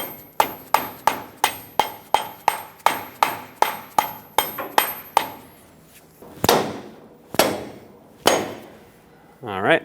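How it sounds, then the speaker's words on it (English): A small rubber mallet taps a wheel hub O-ring into place on a 2000-2005 Ford Excursion front hub, giving a quick run of sharp, evenly spaced knocks that slow to a few heavier strikes, close and crisp. "You can take a small rubber mallet, just help it go in all the way by tapping it."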